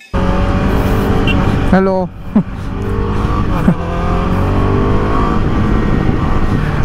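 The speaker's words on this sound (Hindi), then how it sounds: "अब हम चलते हैं बाइक पे, राइड कंटिन्यू करते हैं अपनी।" Motorcycle on a mountain road trip from Chaukori to Almora in Uttarakhand, its engine droning steadily and close throughout with brief revving shifts, while a rider speaks briefly over it.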